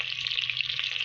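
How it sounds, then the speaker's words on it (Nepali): Onion frying in hot oil for a chicken curry, a steady, close, bright sizzle that stays even for about a second with no one speaking. "भाउजूले तेल राख्नुभयो अनि यो प्याज"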